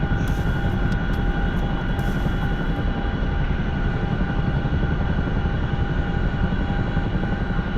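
A Chinook twin-rotor helicopter in a video game drones with a loud, constant engine roar and rotor hum, steady throughout, briefly joined by a few faint high chirps early on.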